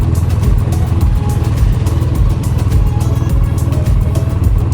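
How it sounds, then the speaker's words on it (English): A ride-on car at Santa's Village amusement park in New Hampshire hums with a steady, continuous engine drone, loud and close, with no speech over it. "Wow, Rishi, you're driving a car."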